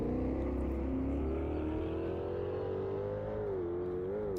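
Ultima GTR race car in Automobilista 2 at Termas de Rio Hondo, engine note steady then dropping and wavering as it brakes hard and downshifts into a right-hand hairpin, close and continuous with no talk.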